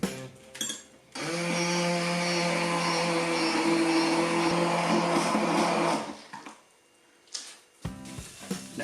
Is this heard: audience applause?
no